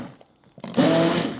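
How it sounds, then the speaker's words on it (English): An immersion blender switches on in hot apple butter after a quiet, muffled start, then whirs loudly and steadily with a rough motor drone. "Make sure the blender is all the way down into the apple butter so that it doesn't squirt out at you at all."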